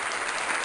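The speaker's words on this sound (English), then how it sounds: "Oh, it's some applause." Brief burst of applause, a dense crackle of clapping heard faintly as if played through a speaker, with no talk.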